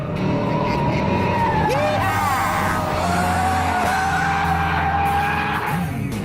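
A Chevrolet Camaro driven hard like a stunt car, its engine roaring loudly throughout while the tires squeal in long, wavering skids, close and continuous.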